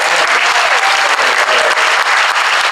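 Loud, dense applause from a convention audience honoring debaters at a state political party convention, steady clapping filling the room without a break for nearly three seconds.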